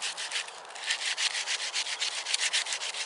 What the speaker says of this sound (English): So I'm going to give it a sand now and we'll just see how I get on.